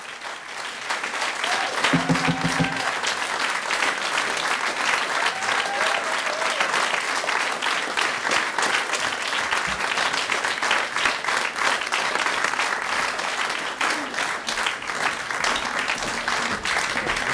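An audience at an Advent stage show bursts into long, steady applause from many people, loud and continuous for well over fifteen seconds, with a brief tonal sound near the start.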